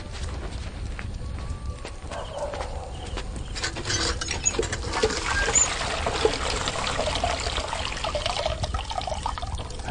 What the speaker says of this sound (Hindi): अरे पानी भर रहे हैं।